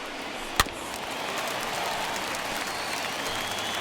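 Baseball stadium crowd at a Dodgers–Angels game rising and cheering on a full 3-2 count, a broad, sustained roar with a sharp crack near the start, distant and steady beneath the open air.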